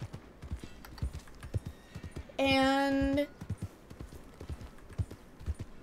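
Horse hooves clip-clopping in a steady rhythm in Red Dead Redemption 2, with a brief horse whinny in the middle and a single short spoken word.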